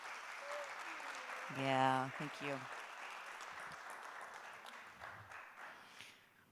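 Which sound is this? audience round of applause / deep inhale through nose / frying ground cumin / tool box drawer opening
audience round of applause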